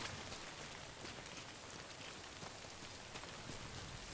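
Steady rain in the video game Death Stranding, a continuous soft hiss of drops on surfaces that stays even and faint throughout, with no voices.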